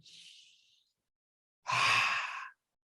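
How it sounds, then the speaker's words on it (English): A soft inhalation is followed after a pause by a louder, breathy exhale like a collective deep sigh from an audience at a religious gathering, heard up close with no talking. "Everybody take a deep breath."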